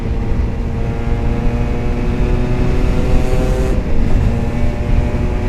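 A Kawasaki Ninja two-stroke motorcycle with its stock exhaust holds a steady, loud engine drone with layered harmonic tones, close by and continuous, with no voices.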